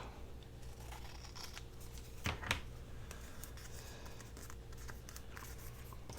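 Scissors trim the bottom off a paper craft piece decorated with a butterfly and vintage book paper, a short run of quiet snips with one sharper cut in the middle against faint room background.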